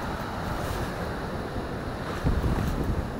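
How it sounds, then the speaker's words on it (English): Gusty wind roars across an open shoreline at Runswick Bay, mixed with the wash of waves, swelling louder for a moment near the end. "It's getting a bit windy now."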